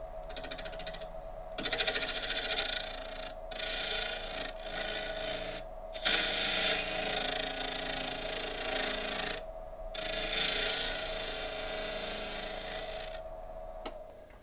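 A wood lathe spins a live edge burl at about 800 RPM, giving a steady hum under continuous scraping and rubbing from the tool, with brief interruptions throughout.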